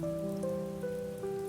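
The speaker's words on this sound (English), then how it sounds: "The rain seems softer." Soft, steady rain patters quietly beneath sustained, gentle musical tones, with no voices present.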